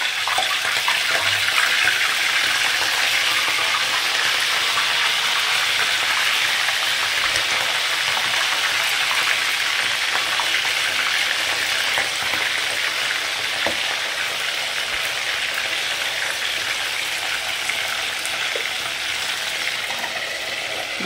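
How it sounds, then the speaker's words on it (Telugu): Fresh fish pieces fry in hot oil for fish pickle, a loud dense continuous sizzle and spatter that holds steady throughout with no talk. "ఆయిల్ వేడెక్కిందండి. మనం ఇప్పుడు పీసెస్ వేస్తాం. ఇది ఫిష్ వాటర్ ఉంటుంది కాబట్టి చిల్లుతుందండి."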